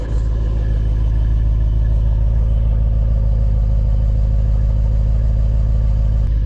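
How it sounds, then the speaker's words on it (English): A Jeep Wrangler 392 V8 with AWE exhaust idles with its exhaust valves closed, a loud, steady, deep rumble close by, unchanging throughout with no voices. "This is it idling right now, valves closed"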